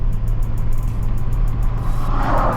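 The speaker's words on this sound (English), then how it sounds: "the VR6 sounds great" A car with a VR6 engine drives along, giving a loud, steady, low engine drone with road noise from inside the cabin.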